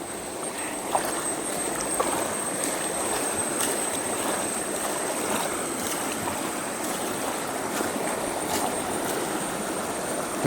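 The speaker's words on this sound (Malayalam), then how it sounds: "ഇപ്പോൾ വെള്ളം ഒഴുകി." Stream water rushes steadily after a blockage of waste has been cleared, a continuous broadband wash with faint splashes throughout and no voices.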